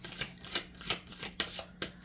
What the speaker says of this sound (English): I'm just gonna do a quick shuffle.